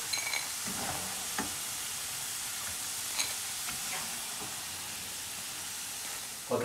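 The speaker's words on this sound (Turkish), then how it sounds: "Patatesleri kızarttık" Potatoes fry in a hot pan with a steady, dense sizzle and crackle, close and continuous, broken by a few soft clicks of stirring.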